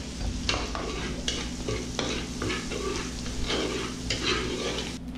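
Onions frying in a pan for a seafood dish with mussels and prawns, a steady broad sizzle with repeated clinks and scrapes of stirring running throughout at close range, no voices.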